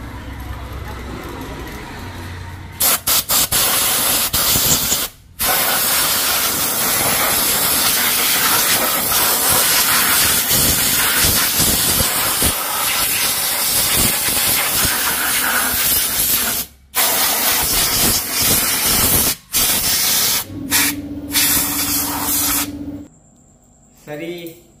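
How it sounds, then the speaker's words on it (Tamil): An air compressor sprays to wash down a vehicle engine during a service, giving a loud continuous high-pressure hiss that cuts off abruptly several times and then resumes, with a voice talking over it. "நான் இப்போ கம்ப்ரேசர் போட்டுட்டு நிற்கிறேன் இன்ஜின் சர்வீஸ் போடுறக்காண்டி."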